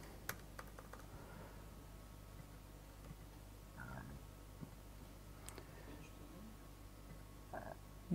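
Sparse computer keyboard keystrokes during a HelsinkiJS tech talk, a few faint isolated clicks scattered over quiet room tone, with brief soft sounds between them.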